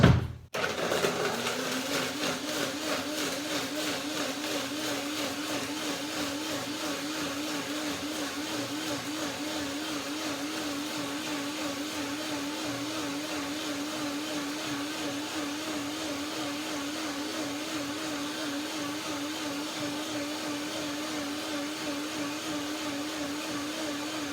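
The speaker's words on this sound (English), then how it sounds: "Blender dance." A blender runs continuously while blending a pear and grape dressing. After a brief start it holds a loud, steady whirring drone for more than twenty seconds, with no voices.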